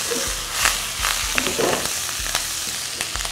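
Duck sizzles and crackles as it is stir-fried in a hot pan with scraping stirs, close and steady for a few seconds.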